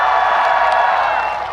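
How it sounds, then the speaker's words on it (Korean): A large outdoor crowd at a political election rally in Yeouido gives dense, continuous applause and cheering to welcome a singer, a loud, steady wash of clapping that fades slightly at the end. "큰 박수로 맞이해 주십시오"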